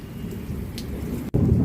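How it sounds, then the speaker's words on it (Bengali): Steady rain hiss with deep rolling thunder on a rainy Sunday morning outdoors near a shed. A brief dropout comes just before the rumble swells louder, and no one speaks. "দেখেছো কীরকম মেঘ ডাকছে বৃষ্টি শুরু হয়ে গেছে"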